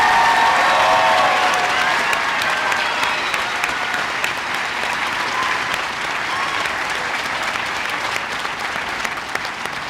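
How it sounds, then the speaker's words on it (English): Steady, loud applause from a large audience at a high school graduation ceremony, sustained dense clapping that fills the hall for about ten seconds, with faint crowd murmur beneath. "Can we please have one more round of applause for our awards and scholarships?"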